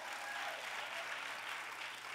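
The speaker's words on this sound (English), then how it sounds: "Clap your hands and praise him right there." Church congregation clapping hands in praise, a faint, dense and steady wash of applause heard from a distance.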